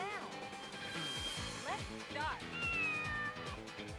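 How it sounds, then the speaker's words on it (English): Repeated short cat meows from the racing game OutRun 2006: Coast 2 Coast, one after another amid driving game music and effects, while someone talks over the top. "Another cat."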